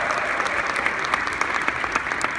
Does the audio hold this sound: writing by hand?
no